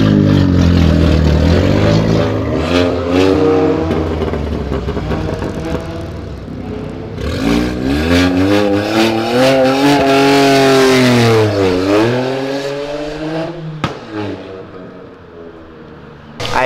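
A six-cylinder Toyota Supra roars as it pulls out of a gas station drifting, its engine climbing and dropping through loud sweeping revs with tire noise, close and dominant.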